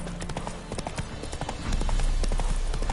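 In the Witcher 3: Hearts of Stone game, the horse gallops with fast, loud, close hoofbeats in a quick rhythm, the pounding thickening over a low rumble in the final second.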